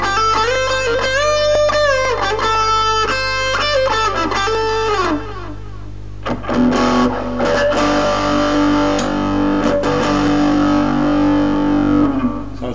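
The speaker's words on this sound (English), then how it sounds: "You got distortion, which is based on, I believe, the Boss DS1" A Roland Cube 20X guitar amp on its distortion setting, modeled on a Boss DS-1, plays a loud solo line of bent, sustained notes, then thicker held chords ring on.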